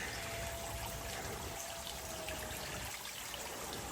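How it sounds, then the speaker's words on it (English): A small mountain stream trickles along the Appalachian Trail in the woods, a faint, steady wash of running water with no voices over it. "there's a little flow of water"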